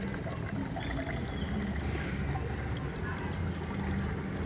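Water pours steadily into a container of liquid plant mixture, a faint continuous splashing trickle heard close and alone.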